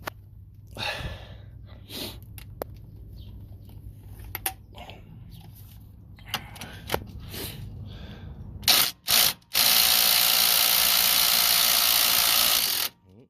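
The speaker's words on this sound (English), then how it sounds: "you might get away with just putting the gun on it and spinning it off and making it loose enough" An impact gun with a 17 socket spins a strut nut off a 2008 Toyota Mark X Zio, first with scattered clicks and rustles of handling, then short bursts followed by a loud, continuous, close rattling whir lasting several seconds.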